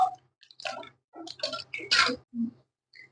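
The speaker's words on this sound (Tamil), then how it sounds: "பாருங்க தண்ணி நல்லா கொதிச்சிருச்சு" Irregular bubbling pops and gurgles from water boiling in a pot for egg biryani rice, coming in short scattered bursts with quiet gaps between them.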